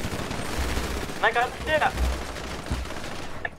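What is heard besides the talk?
gunfire in a video game shootout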